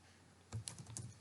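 A few quick keystrokes on a computer keyboard, close and quiet, with soft clicks in a short burst after a moment of near silence.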